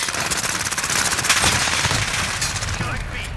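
Rapid, dense video game gunfire from a CX-9 submachine gun, sustained bursts in an online shooter match, loud and continuous across the whole moment.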